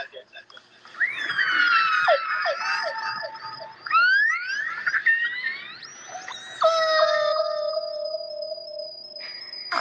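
Orca and whale calls picked up by a hydrophone at sea in the Pacific: sweeping whistles, rising chirps and long tonal squeals overlap in bursts, some sliding sharply upward, with brief quiet gaps between calls.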